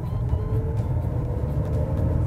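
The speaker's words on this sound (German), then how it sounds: "Gleich setzt der Benzinmotor ein." Engine noise from a CUPRA Leon e-Hybrid plug-in hybrid as its petrol engine starts up, a steady low rumble heard from inside the car with no talking.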